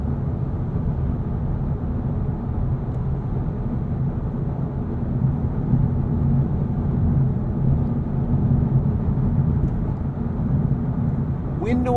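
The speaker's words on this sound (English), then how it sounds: "Tire noise is noticeable though. That is finding its way into the cabin." Inside an Acura Integra Type S at highway speed, a steady, loud low roar of tire and road noise fills the cabin with a softer wind hush, continuous throughout.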